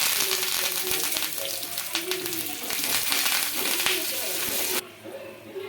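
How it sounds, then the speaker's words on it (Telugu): Garlic cloves, chana dal, dried red chillies and curry leaves frying in hot oil, a loud continuous close sizzle with crackles and scraping stirs, easing off near the end. "ఇంకా ఇప్పుడు నూనె అయితే వేడిగైందండి ఫస్ట్ వెల్లుల్లి రిబ్బలు శనగపప్పు కొద్దిగా అలాగే ఎండుమిర్చి కరివేపాకు"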